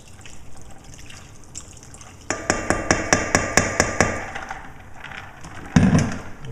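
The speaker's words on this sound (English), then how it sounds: "We'll throw some more ice water in." Ice water poured over homemade butter in a bowl, starting as a soft trickle, then a run of evenly spaced sharp knocks and splashes, ending with one louder close slosh.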